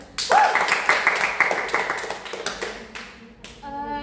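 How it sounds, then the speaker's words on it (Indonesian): A short burst of hand clapping from a small group in a group counseling session, a speaking voice briefly overlapping at the start, the claps tapering off within about three seconds. "Tepuk tangan dulu"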